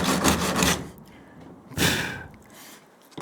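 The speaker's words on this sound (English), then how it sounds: "it's kind of hard to straighten that up with, you know, a loose piece of sandpaper" Loose sandpaper rubbed by hand over the hood of a 1929 Chrysler, giving two broad scraping bursts separated by a quieter pause, close and fairly loud.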